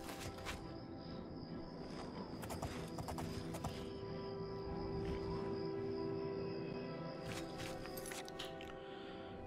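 A horse's hooves clip-clop in The Elder Scrolls IV: Oblivion, faint and intermittent over a steady game ambience with a low hum. Clusters of hoofbeats come near the start, middle and end.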